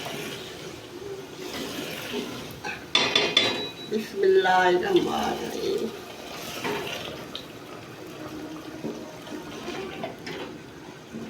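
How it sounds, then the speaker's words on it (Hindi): Water is poured into a pot of choley curry, a short bubbling, gurgling splash in the middle amid clinks of a metal pot and spoon, with brief speech heard early. "थोड़ा सा पानी डालूंगी।"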